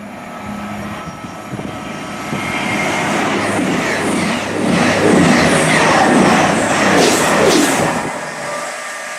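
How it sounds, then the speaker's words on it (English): A train at Wallyford Station, a two-platform ScotRail station on the East Coast Main Line in Scotland, rumbles steadily past, a broad rushing roar that swells through the middle and stays loud throughout, with no one speaking. "this is Wallyford Station, ScotRail managed station on the East Coast Main Line"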